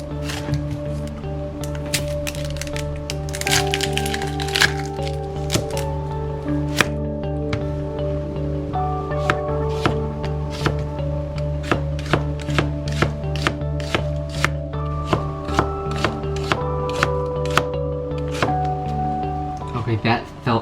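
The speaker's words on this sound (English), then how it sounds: "I'm going to use the new knife to cut up the onions and see how it is." A new kitchen knife chopping onions on a cutting board, a long run of crisp, evenly spaced taps that speed up in places, close and clear over a steady background hum.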